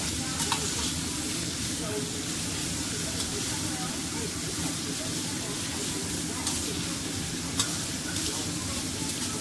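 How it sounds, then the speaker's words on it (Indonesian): Dried wood ear mushrooms being stir-fried in a pan for fried rice vermicelli, a steady dense sizzle with scraping stirs running throughout, close and constant. "Jadi ditumis-tumis, dimasak-masak dulu, biarkan mereka-mereka ini matang dulu ya."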